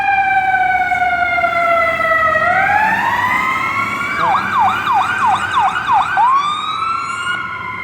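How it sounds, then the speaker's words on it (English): An ambulance siren wails along a snowy Toronto street, Yonge Street, rising through a long swelling tone and then switching to rapid yelping cycles, loud and close as it passes over steady traffic rumble. "An ambulance following them."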